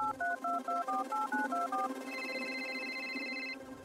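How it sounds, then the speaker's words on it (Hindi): A mobile phone being dialed: a rapid run of about eleven short DTMF keypad tones in a steady rhythm, then a sustained ringback-style tone on the line, clear and close, with no talking. "बिल्डिंग में नीचे उतरकर मैंने रीना को कॉल किया।"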